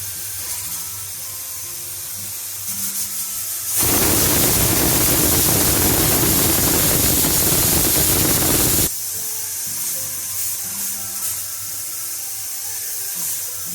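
A pressure cooker cooking thick dal on a gas stove gives one loud, continuous whistle-like steam hiss lasting about five seconds, close by, between quieter kitchen background.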